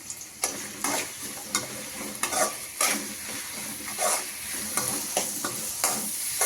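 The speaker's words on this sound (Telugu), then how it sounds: "అలానే 2 పచ్చిమిర్చి వేసేసుకొని ఫ్రై చేసేసుకుందాం." Green chillies and cut onions frying in oil in a pan give a constant close sizzle, with repeated spatula scrapes and stirs at an uneven rhythm throughout.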